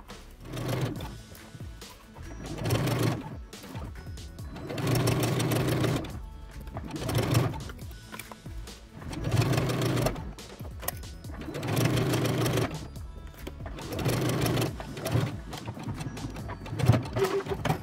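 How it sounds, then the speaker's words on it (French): A sewing machine stitches a fabric gift pouch in tubular mode with the free arm exposed, running in repeated loud bursts of rapid mechanical whirring separated by short pauses, with no talk. "je vais pouvoir enlever le capot. Pour pouvoir coudre en tubulaire."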